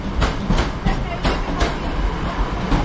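A former West Midlands class 323 electric train at Manchester Piccadilly station, loud close rhythmic clickety-clack of wheels over rail joints with a rumbling undertone.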